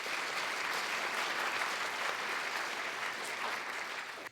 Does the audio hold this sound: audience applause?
yes